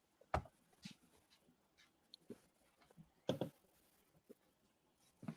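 A dog close by makes scattered faint noises: brief snuffles, pants and soft whimpers between quiet stretches, with a few sharper knocks.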